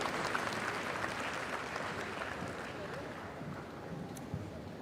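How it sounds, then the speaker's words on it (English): Faint, distant audience applause at a televised business leadership summit, a steady soft wash of clapping with no clear breaks or peaks. "Ladies and gentlemen, a big round of applause"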